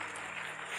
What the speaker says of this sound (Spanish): ¿Cuánto le dan ese aplauso al Señor?